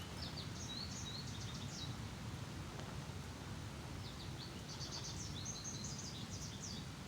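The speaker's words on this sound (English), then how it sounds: "instead of the birds chirping" In the Adirondack woods, small birds chirp in quick repeated bursts of high notes, faint and distant, over a low steady outdoor hum, in two clusters separated by a short pause.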